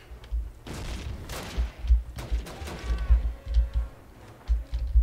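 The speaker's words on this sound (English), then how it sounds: "Oh, that's a grenade." In the Call of Duty video game, a grenade blast and rapid bursts of gunfire sound in a dense, continuous battle with repeated low booms and sharp cracks, loud and close.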